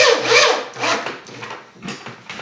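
A screw is driven by hand into a wooden step stool, giving a series of close, loud grinding, creaking rubs that surge and fade in uneven strokes over a few seconds.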